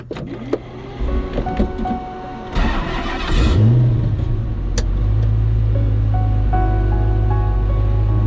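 An Ultima sports car rumbles up, with a few clicks and whirs before its engine settles into a loud, steady drone that carries on to the end.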